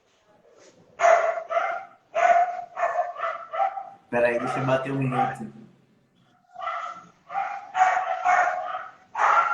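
Dogs bark in repeated sharp bursts nearby, with a short pause between volleys, while someone speaks Portuguese over them in the middle.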